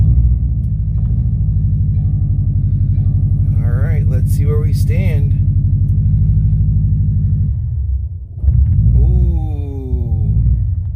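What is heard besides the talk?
Subaru WRX engine running after blow-off valve install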